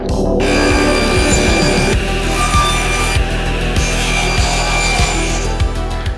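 Wooden boards are sawn to length with steady back-and-forth strokes, a loud, close rasping cut that rhythmically repeats without pause and with no voices.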